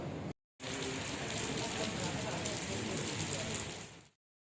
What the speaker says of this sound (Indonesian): kita sudah mulai turun hujan seperti yang kita saksikan.